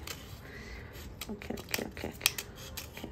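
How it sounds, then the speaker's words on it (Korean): Scissors snip around a diamond heart sticker in a series of quiet, close, irregular crisp cuts and paper rustles over faint background noise. "하트는 다이아몬드 하트를 이렇게 잘 잘라줍니다"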